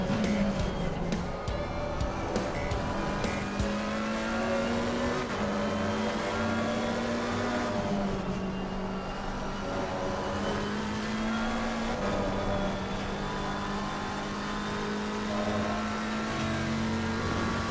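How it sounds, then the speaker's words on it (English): A racing car engine in Assetto Corsa Competizione at Kyalami drones steadily and loudly throughout, its pitch rising and falling as it revs through gears. "Fascinating to hear the engine though."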